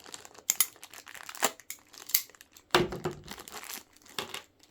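Scissors cut through the thin plastic bag of a Nendoroid figure package, giving a string of crinkly snips and rustles in uneven bursts, close up and with no talking.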